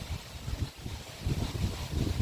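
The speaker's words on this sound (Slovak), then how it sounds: "fúka priaznivý vietor, fúka presne na nás" Wind blows steadily across open water at a carp lake, a low rumbling buffet against the microphone that rises and falls without pause and with no voices.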